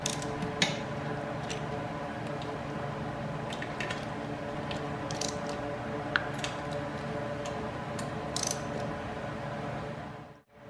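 Wrench clicks from tightening the bolts on Tusk upper and lower crash bars fitted to a 2022 Kawasaki KLR 650: sparse, sharp ticks scattered over a steady background hum, close by, then ending abruptly.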